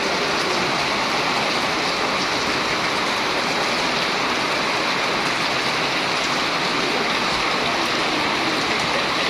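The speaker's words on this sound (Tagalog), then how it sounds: "ito pong ulan na ito halos kagabi pa to itong ulan na to" Heavy rain pours down steadily near a lighthouse, a dense, even hiss that continues without a break, loud and close, with no talking.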